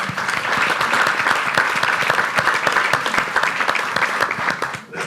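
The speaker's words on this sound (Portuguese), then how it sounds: "à Susana Albuquerque e ao Ricardo Monteiro, para quem pede um aplauso, porque" Dense, steady applause from a conference audience at a 2019 marketing debate event, loud and continuous for about five seconds before briefly dipping near the end.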